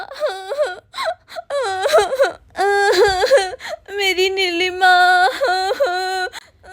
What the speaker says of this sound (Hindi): अरे ये तो मम्मी के रोने की आवाज है।